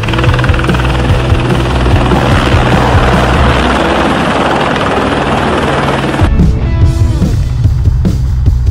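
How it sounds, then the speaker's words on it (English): A helicopter arrives and lands on a rock in the mountains, with a loud, close, steady rotor thud and engine roar throughout that shifts in tone near the end. "Helicopter makes a spectacular arrival to reach a group of people in the mountains"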